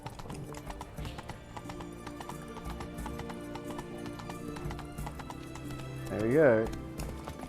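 Roach, the horse from The Witcher 3, galloping with steady rapid hoofbeats and a loud whinny near the end, under game music, with someone talking briefly over it.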